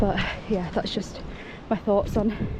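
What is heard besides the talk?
None of the usual background noises is heard.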